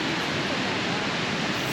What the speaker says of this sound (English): we'll leave you with the sound of the rushing water